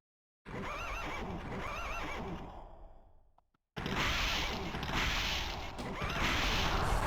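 A horse neighs in The Legend of Dragoon video game, two wavering whinnies up close, then a brief pause before a louder, dense burst of game sound with more whinnying over it.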